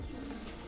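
Pigeon coos from a championship racing pigeon loft, a soft low throaty call heard briefly and close.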